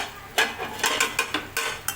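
A spoon scrapes and knocks through potato and brinjal curry in a pot, about six sharp, close strokes in quick, uneven rhythm, with no talking.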